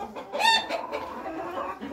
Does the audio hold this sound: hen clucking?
yes